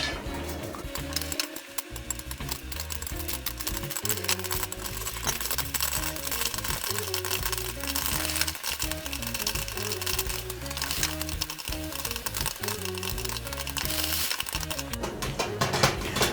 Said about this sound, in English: It's already a much more violent popping.